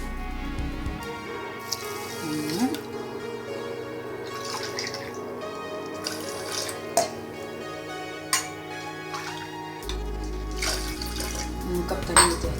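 Water is poured onto a cup of sugar in a pot to make syrup, with a soft trickling splash and light clinks of utensils and vessels, while a voice talks over it.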